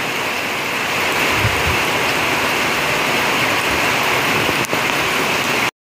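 Steady rain pours down during a fishing trip outdoors, a dense continuous hiss of drops hitting surfaces close by, loud and unbroken with no voices.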